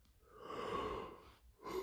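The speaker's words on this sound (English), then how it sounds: "I told you that yawn was coming." One soft, breathy yawn with a long drawn inhale that swells and fades, then a brief second breath, close and quiet with no talking.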